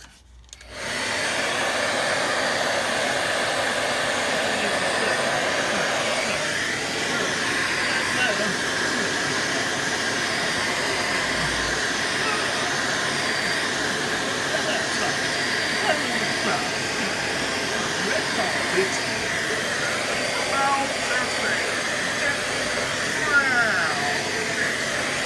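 Hair dryer blowing continuously at close range, a steady whooshing hiss lasting the whole time with faint shifting airflow and no gaps.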